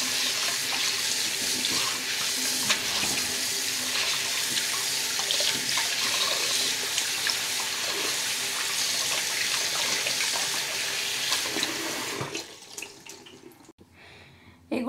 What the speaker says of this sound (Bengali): তো আমি আগে ভালো করে ধুয়ে নিই লবণটাকে।